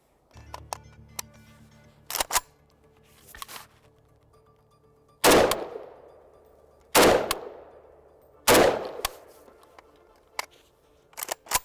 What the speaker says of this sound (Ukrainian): Три постріли звичайними патронами.